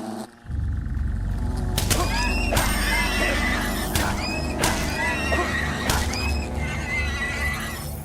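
Creatures in Fable Anniversary let out repeated loud horse-like whinnies and neighs, several overlapping calls over a constant rumbling game background.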